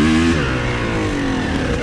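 A Honda CR250 two-stroke dirt bike engine revs loud and close on a trail ride, its pitch sliding as the throttle eases, with no talk over it.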